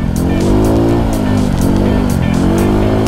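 A motorcycle engine drones loud and close while riding through sand toward Gunung Tanah Merah, its pitch rising and dipping steadily with wind noise throughout.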